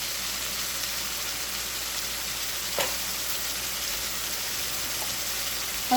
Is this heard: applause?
no